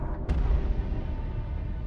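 A single loud boom from an explosion in the video game Solo Leveling: Arise, a sharp hit followed by a deep rumbling tail that fades out.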